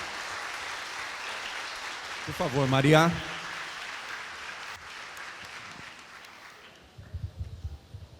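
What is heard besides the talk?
audience applause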